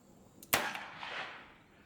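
A single sharp shot from a Colt Trooper Mark 3 revolver firing .38 Special at an outdoor range, one loud close crack followed by a long, decaying echo.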